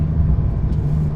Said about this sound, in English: motorway acceleration up to the Swiss speed limit of 120